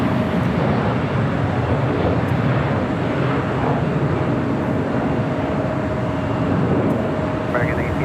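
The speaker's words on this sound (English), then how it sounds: "The 777 freighter heads into, as you see there, Korean Air Cargo building." A Korean Air Cargo Boeing 777 freighter taxiing at LAX, heard as a steady broadband jet engine rumble with a faint whining tone, continuous and fairly loud throughout.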